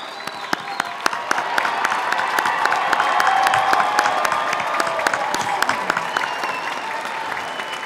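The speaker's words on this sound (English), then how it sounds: "demonstrate our true spirit of joy with continued applause" Commencement crowd at a nursing school ceremony applauding steadily, a dense wash of many hands clapping with scattered louder claps and some cheering, sustained throughout.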